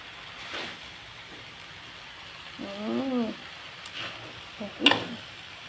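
Pad thai with pork, shrimp and Korat rice noodles stir-frying, a soft steady sizzle with faint scrapes and a brief tonal, voice-like whine midway.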